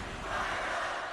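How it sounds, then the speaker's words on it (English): A basketball arena crowd roars in a broad, steady wash of cheering during a virtual college basketball tournament broadcast, loud and sustained across the short moment with no distinct voices. "Hear the crowd. Fire it up."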